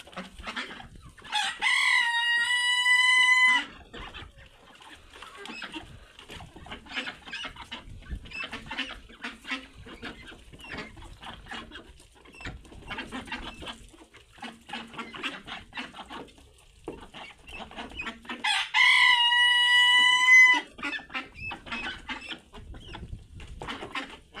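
In a backyard yard, chickens and ducks peck at leftover rice, vegetables and tomatoes amid steady clucking, scratching and soft pecking sounds, while a rooster crows loudly twice, near the start and again near the end.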